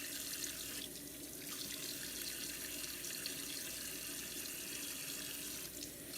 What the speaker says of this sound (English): we're going to fill up the sink with water